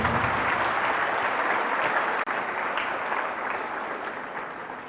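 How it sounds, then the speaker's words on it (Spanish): A church congregation applauds loudly and steadily for about five seconds, a dense wash of many hands clapping with a brief dropout midway. "Fuertes aplausos al Señor Jesús."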